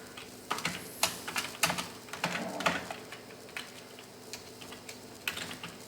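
Fingers type on a computer keyboard in quick, uneven runs of soft clicks and taps. The sound is close but quiet, with brief pauses between bursts.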